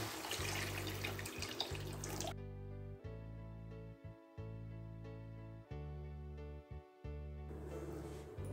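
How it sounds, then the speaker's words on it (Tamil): Mutton stock pours steadily into a curry in a continuous splashing stream for a couple of seconds, then stops, leaving a sustained musical tone in the background. "நம்ம மட்டன் வேக வச்ச தண்ணி இதை இப்போ சேர்த்துக்குவோம்."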